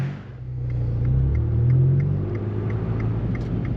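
A 2015 Fiat Abarth 500 with a manual gearbox driving, its engine a low steady rumble from inside the cabin that swells briefly and then settles.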